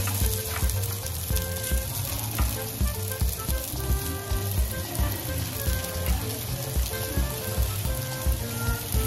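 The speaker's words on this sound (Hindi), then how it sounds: "तो चलिए यहाँ पर पैन पे फिर एक बार फिर से डाल देती हूँ कबाबों को।" Seekh kebabs made from leftover roti fry in a pan, a loud, close, continuous sizzle and crackle with bursts of popping spatter throughout.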